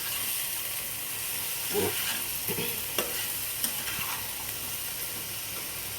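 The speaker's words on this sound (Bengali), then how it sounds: "মশলাগুলো এর সাথে মিশিয়ে নেব।" Spices are stirred into food frying in a pan for a home dinner, a steady sizzle and hiss underneath with occasional scraping strokes and light taps of the spatula.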